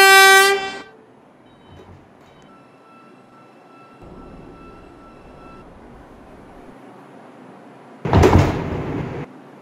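A Manhattan-bound New York subway 2 train sounds a short horn blast, then the car goes quiet with faint hum and a brief tone. A loud burst of rushing rail noise follows near the end.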